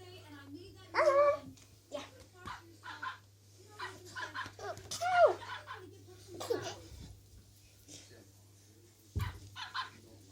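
A toy plush puppy barks in short yaps and whimpers indoors, mixed with people talking and a little laughter over a steady low hum.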